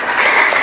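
Brief, close applause from students in a classroom, clapping for a student group that has just presented, loud and dense for a short moment with no talk.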